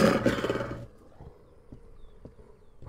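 A wolf in the video game We Harvest Shadows lets out a loud, rough growling roar that fills the first second, then drops away to near silence with a few faint knocks and no voices.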